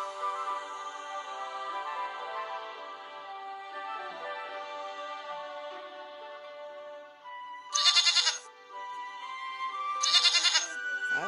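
Goats bleat in a children's farm game, heard as two short, bright bleats near the end over a steady musical tone.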